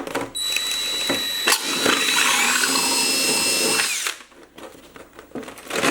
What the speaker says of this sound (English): I'm gonna go ahead and drill